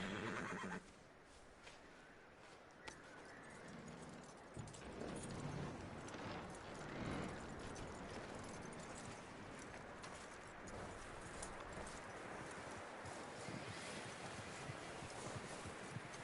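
A horse in Red Dead Redemption 2 whinnies loudly at the start, followed by steady hoof clip-clops and movement under a windy outdoor game ambience, with no talking.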